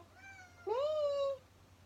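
A domestic cat gives a short, faint meow, then a louder, clear, drawn-out meow lasting under a second, close to the listener over a quiet low hum, with no talking.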